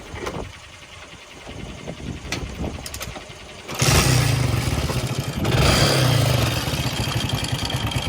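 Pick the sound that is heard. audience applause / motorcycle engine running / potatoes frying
motorcycle engine running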